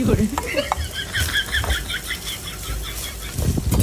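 Sopas with hotdog, spam and shredded boiled chicken being stirred in a pot, a close scraping stir over a light sizzle, with a chirping rhythmic squeak partway through.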